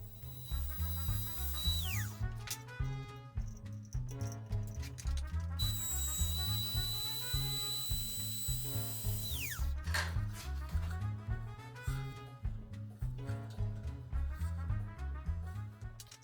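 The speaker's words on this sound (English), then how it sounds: "I use a flat bottom bit in my trim router to remove most of the waste" A small power tool whines at high speed in repeated bursts, its pitch dropping as it bites into wood, with rhythmic mechanical chatter throughout.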